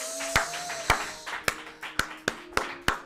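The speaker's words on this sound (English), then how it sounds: "We're gonna keep clapping for Selena." An audience claps at an open mic poetry night to welcome a performer, Selena, to the stage, with sharp, hand-sized bursts of applause at a steady rhythm that rise and fade over a murmuring room.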